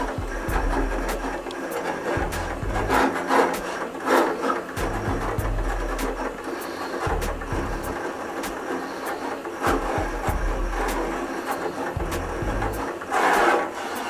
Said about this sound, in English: send my sample over to the cutter. I'm cutting at 50 centimeters per second.